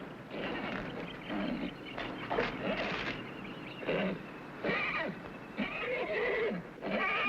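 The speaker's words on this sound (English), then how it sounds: "Please, little Jim, don't fail me now. Giddy up." A horse whinnies loudly and close by in repeated neighing bursts across the whole stretch, in a 1960s television drama scene.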